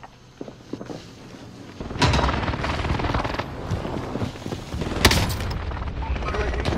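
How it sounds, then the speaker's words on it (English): Explosions from an enemy precision airstrike in Call of Duty: Modern Warfare, Rebirth mode, hitting in a loud broadband burst and sustained rumble with a second sharp blast midway, mixed with game noise. "Enemy precision airstrikes."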